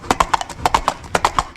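Horse hooves clip-clop in a quick, even rhythm, loud and close, about a dozen sharp strikes with nothing else over them.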